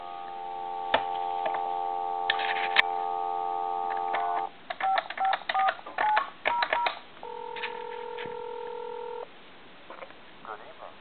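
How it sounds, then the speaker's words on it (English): Touch-tone dialing on a GTE A&E telephone plugged into a line to call a time and temperature number: several steady dual-tone beeps of varying length, then shorter tone bursts and clicks, ending in a longer held tone. "we'll plug this telephone into the line, and we'll go ahead and call"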